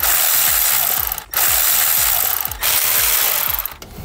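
A ratchet clicks rapidly and repeatedly while loosening 11 mm bolts on a BMW N54/N55 engine, close and loud, with the ticking bursts broken by short pauses as the handle is reset.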